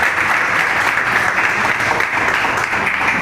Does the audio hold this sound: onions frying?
no